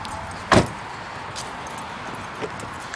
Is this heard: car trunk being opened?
yes